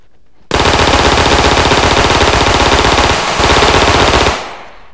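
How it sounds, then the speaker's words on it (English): Sustained rapid automatic gunfire in a Roblox game, loud and close, a continuous burst with a brief dip partway through before cutting off. "come pull up and hear them bullets"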